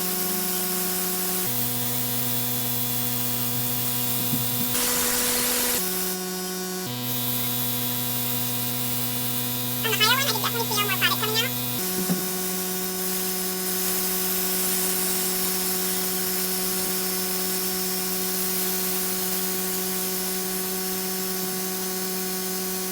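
A Luminess Air airbrush makeup device sprays in steady, hissing bursts over a constant electric hum from its compressor, with brief pauses and a short fluttering burst partway through.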